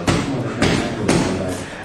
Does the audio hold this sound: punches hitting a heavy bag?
yes